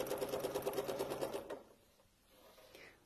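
Sewing machine stitching a microwave oven bowl with red thread, a steady rapid mechanical chatter for about a second and a half, then stopping, leaving faint quiet handling.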